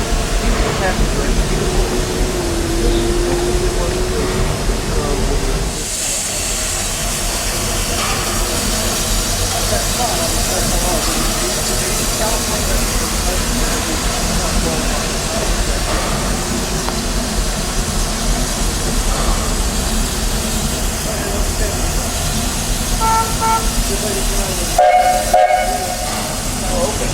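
A Disney steam locomotive in a train yard hisses steadily for a long stretch, with bursts of steam and a faint whistle, while people talk nearby and crowd noise continues underneath.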